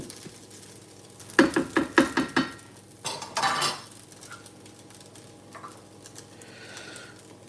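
A spatula scraping and clinking against a pan while egg and shrimp fried rice is stirred, a run of quick metallic taps followed by a brief scrape, then quiet.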